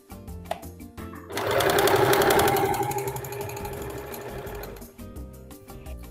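A sewing machine runs a straight seam on men's boxer fabric, starting about a second in and stitching steadily for several seconds before stopping, loud and close, with quieter handling before and after.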